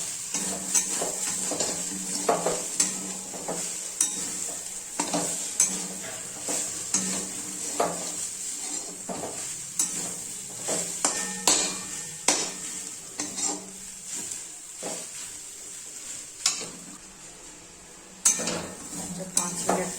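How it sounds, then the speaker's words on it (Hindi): Coconut barfi mixture being stirred in a pan, repeated scraping and tapping strokes of a spoon against metal over a soft sizzle, close and steady for the whole stretch. "देखिए इसमें मैं किस तरह इसको बार-बार चला रही हूँ"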